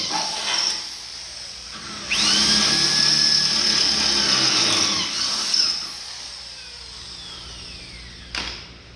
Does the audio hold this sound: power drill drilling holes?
yes